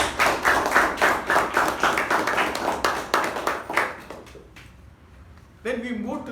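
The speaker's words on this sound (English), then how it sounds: "Let's give him a round of applause for holding things together." A meeting audience claps together in steady, dense applause that gradually thins and fades, followed by a brief hush before a voice begins speaking.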